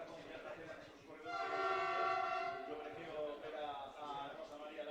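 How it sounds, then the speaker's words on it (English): A train sounds in the background near Canfranc in the Pyrenees during a mountain trail race, with a sustained, harmonically rich horn rising and then fading over a few seconds beneath ongoing commentary. "If you hear that in the background, that sounded like a train."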